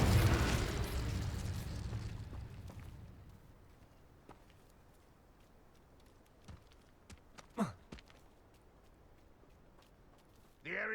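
Incendio fire spell cast in Hogwarts Legacy, a loud burst of roaring flame at the start that fades over a few seconds, followed by quieter scattered pops and a short whoosh.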